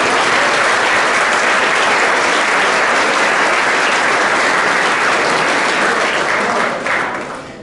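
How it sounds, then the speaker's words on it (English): Sustained applause from the audience at a high school football banquet at Needham High School, loud and steady for several seconds before tapering off at the end. "Please give a round of applause for our TDC."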